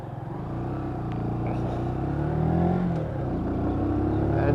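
A Lexmoto Michigan motorcycle engine drones up and down through the gears on the road, a close, steady rumble that rises and dips with each shift.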